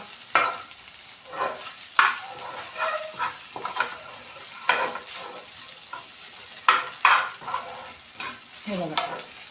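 Okra with garam masala being stir-fried in a pan, with a low sizzle under irregular loud scrapes and clatters of the spatula against the pan, heard up close.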